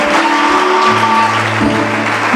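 Church congregation applauding and cheering for the Lord during a testimony service, a dense sustained wash of clapping with sung or shouted tones running through it.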